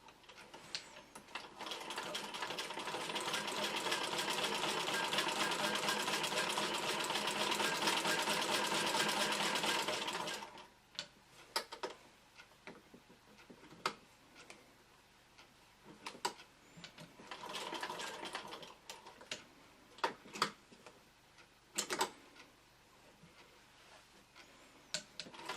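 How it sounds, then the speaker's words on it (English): A Singer 15K80 sewing machine stitches through a quilt sandwich with polyester batting, a steady loud mechanical whir for about ten seconds, then stops, leaving scattered faint clicks and handling noises. "and then start to sew"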